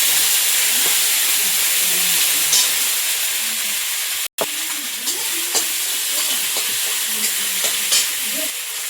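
Ginger paste and garlic frying in hot oil with five-spice seasoning, a loud continuous hissing sizzle broken once by a brief dropout, with light scraping stirs and small clinks throughout.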